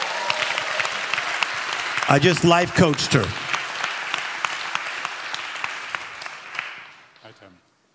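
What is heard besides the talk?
audience clapping hands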